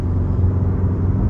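A Porsche 911 Carrera (992) accelerates hard, heard as a deep, steady engine rumble that fills the low end. It sounds muffled and continuous, as if from inside the car.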